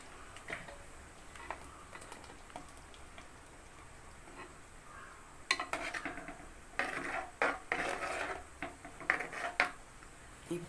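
A paste of ground coconut, turmeric, chilli powder and curd is scraped into a pan, with clinking and scraping of a utensil against metal growing louder in bursts toward the end; no one speaks.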